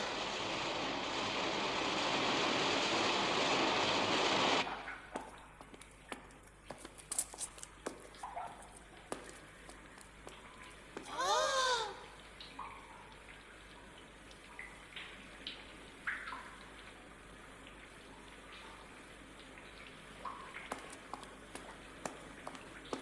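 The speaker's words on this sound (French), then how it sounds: "J'entends le grondement du torrent s'amplifie" A rushing mountain torrent roars loud and close for about five seconds, then cuts to a much quieter scene of scattered drips and short chirps.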